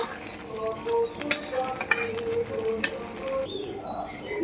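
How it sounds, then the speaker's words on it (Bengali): Papaya jelly chutney taken off the heat and moved into a bowl, with metal spoon scrapes, light clinks of utensils against pots and dishes, and small scattered kitchen knocks at close range. "এবার আমি এটা নামিয়ে একটা বাটিতে তুলে নেব"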